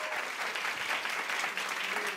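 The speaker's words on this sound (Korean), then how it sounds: "그래서 우리 함께 한번 박수로 한번 격려해 주시면 좋겠습니다" Congregation at Yeouido Baptist Church applauding steadily in the sanctuary, a dense, continuous clapping that stays at even volume from start to finish with no voices rising above it.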